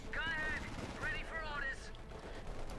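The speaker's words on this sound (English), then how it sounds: "More Thompson there for the final third section there. Putting heavy fire." Heavy gunfire from Thompson submachine guns in the Company of Heroes 2 strategy game, rapid bursts rattling underneath a commentator's continuous voice.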